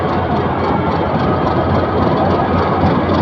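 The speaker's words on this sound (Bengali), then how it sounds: "এই যে লোকোমেটিভটি স্টেশনের প্ল্যাটফর্মে প্রবেশ করছে" A heavy diesel locomotive of the 2300 series entering a station platform at Kamalapur Railway Station, Dhaka, droning and rumbling steadily at close range, a constant low mechanical roar without pauses.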